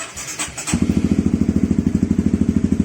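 A Honda CB150R motorcycle engine starts after a few faint clicks and settles into a steady, rhythmic idle thumping, loud and close with no talk over it.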